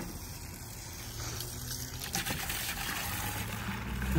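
Water running from a tap into a container for mixing insecticidal soap, a steady trickling gush that grows slightly fuller as it fills, quiet and close, with no voices.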